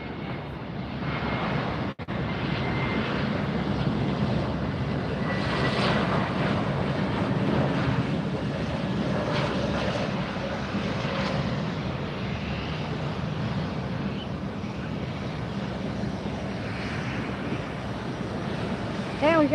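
A Spirit Airlines jet passes at Fort Lauderdale airport with a steady, broad engine roar heard from a distance. The sound holds level for the whole stretch, with some wind buffeting on the microphone.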